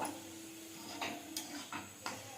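Semolina is mixed with a little water in a pan, giving a few soft, close scrapes and knocks of a spoon against metal over a quiet hiss.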